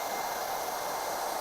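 Steady broadband whoosh of a hair dryer blowing continuously during a men's short haircut styling session, even and unbroken at moderate level.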